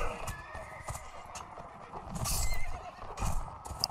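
In a Mount & Blade: Warband battle, horses whinny loudly while hooves clip-clop steadily underneath, with a busy wash of battlefield noise throughout.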